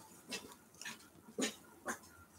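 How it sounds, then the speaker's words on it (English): Indoors, dogs bark in the distance, four short muffled barks spaced about half a second apart, faint and quiet against a soft room background. "What are you guys barking at?"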